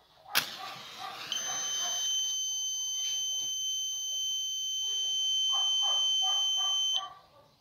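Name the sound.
Arduino flame detector buzzer triggered by a lit match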